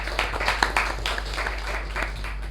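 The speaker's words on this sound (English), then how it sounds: "Can we have a round of applause for our VP membership?" A short round of applause from the audience at a Toastmasters club meeting, scattered hand claps at moderate level with a few sharper claps standing out, continuing steadily throughout.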